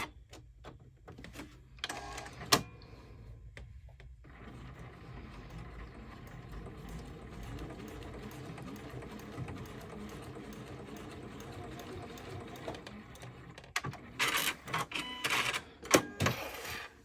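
A sewing machine stitching zipper tabs onto a fabric pouch, a fast mechanical rattling whir that runs steadily through the middle, framed by short bursts of clicks and handling noise at the start and end.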